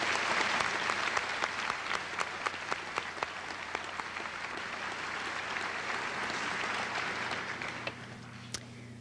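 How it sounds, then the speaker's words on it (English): A graduation crowd at the Center Line High School class of 1991 commencement gives sustained applause for senior class officers. Thick, even clapping fills the hall, with a few sharper individual claps standing out and no talking. "Let's have a round of applause for these seniors."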